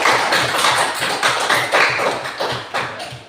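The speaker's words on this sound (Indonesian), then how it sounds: "Sekali lagi tepuk tangan untuk semua." A class of fifth-grade students claps together in a classroom, a dense, loud burst of overlapping hand claps with a roughly steady rhythm and no talking.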